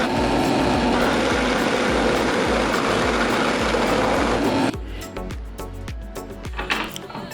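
A drill bores a 1.5-inch hole through wood, a loud, dense whirring grind for several seconds that cuts off abruptly, followed by scattered knocks and the shuffle of handling the workpiece.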